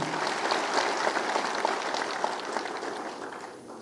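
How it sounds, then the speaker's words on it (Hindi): A large audience at a Uttar Pradesh government event for police computer operators applauds to welcome the minister, with a dense, steady burst of many hands clapping that fades slightly toward the end. "बहुत बहुत तालियों से अभिनंदन वंदन कीजिए"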